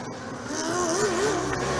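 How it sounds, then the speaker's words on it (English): The Padova Formula Student race car's engine drones steadily at an endurance event, a sustained tone with a rising and wavering pitch, close and fairly loud, with no voices. "the noise of the very nice sounding Padova car"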